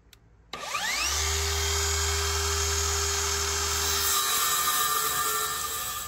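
A power tool spins up and runs in one continuous loud whine while cutting an attic joist back from the drywall edge, steady and close, with a deep hum underneath that drops away near the end.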